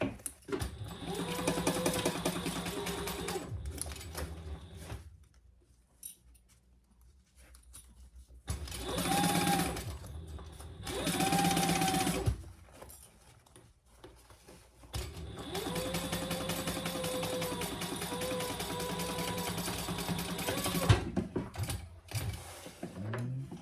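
A sewing machine stitches a leather pouch closed, running in buzzing mechanical bursts separated by quiet pauses, close up and with no talking.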